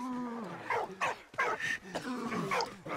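Dog sounds from the WWI video game Valiant Hearts: The Great War, a few short yips and whimpering barks in a quick irregular series, close and fairly loud, with no talk over them.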